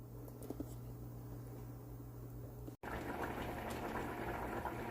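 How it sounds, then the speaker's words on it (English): Beef stock at a rolling boil in a pot for short ribs, a steady close bubbling and gurgling that runs throughout, broken by one brief dropout near the middle. "I need to bring this back up to a boil and let it reduce by half again"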